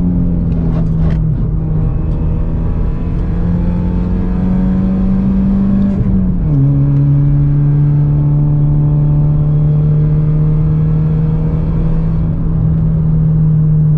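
A Mk4 Bora wagon with its muffler deleted drones loudly from inside while cruising, the engine note steady and booming, dipping briefly with a gear shift before settling back into a constant hum.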